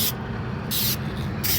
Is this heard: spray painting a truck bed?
yes